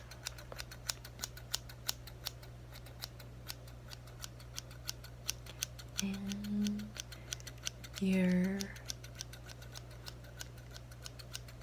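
Scissors snip steadily in repeated sharp, quick clicks close up during a men's shaving role play, with a soft voice speaking briefly in between.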